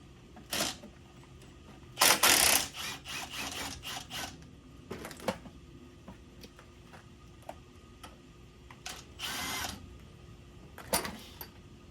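Bolts come off the shock mounts at the front end of a 2007 GMC Yukon, heard as scattered close metallic ticks and clicks, with a few louder ratcheting bursts of tool noise in between.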